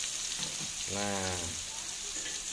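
Ground spice paste for gulai with fern and jengkol sizzling steadily in a home pan, a soft continuous frying hiss with a brief tonal squeak partway through.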